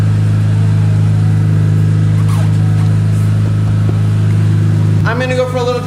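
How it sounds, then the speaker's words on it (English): BMW M3 engine idling as it warms up, a steady low hum running throughout, with a short rise in revs near the end. "As my car warms up"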